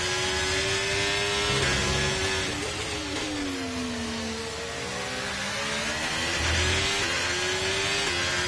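Racing car engine in a Formula-style video game, revving and accelerating to overtake at a Brazil circuit; the steady, loud whine rises and falls with gear changes throughout, with no talk over it.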